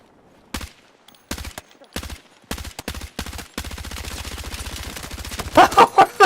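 Rapid automatic gunfire in the video game Battlefield 6, loud bursts that stutter at first and then become a long sustained stream of shots, ending in a few heavier booms.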